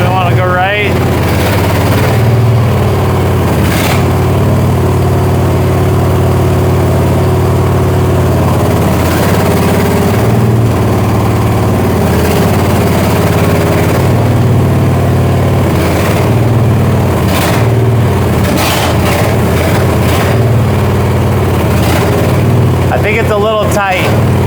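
Engine of a Chinese mini excavator runs steadily while the machine swings left and right, a loud close droning idle with periodic clanks and hydraulic shifts throughout, and someone talks over it.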